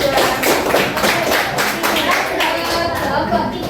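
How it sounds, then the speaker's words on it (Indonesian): A group claps hands together, fairly close, with lively voices and chatter mixed in. "tepuk tangan kelompok 2"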